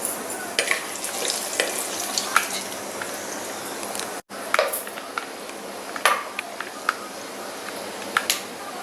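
Peanuts roasting in a clay pot, a continuous crackling sizzle dotted with sharp pops and light scraping of a utensil, close and fairly quiet, with a brief gap midway.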